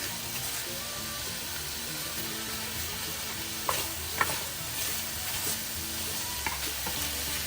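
Smoked sausage stirred while heating in oil for a Cajun jerk alfredo, with a steady close sizzle and a few sharp scrapes and clicks of the utensil against the pan.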